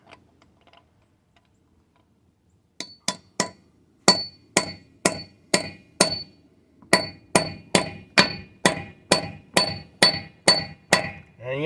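A socket is hammered onto a rounded lug nut on a 5,000 lb truck on a car lift. About twenty sharp metallic blows ring out in a steady rhythm after a quiet opening, close and loud.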